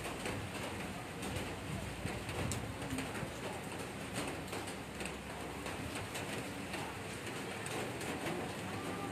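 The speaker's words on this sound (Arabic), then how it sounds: "أمطار خير في الأثناء بمدينة بن سليمان" Steady rain falls across the city of Benslimane, Morocco, a dense continuous hiss that stays even throughout, with no voices over it.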